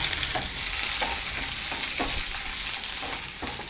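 Green chilli, curry leaves and onion sizzling loudly in hot oil with fried chana dal and urad dal, a steady close crackle with occasional spoon stirring scrapes throughout.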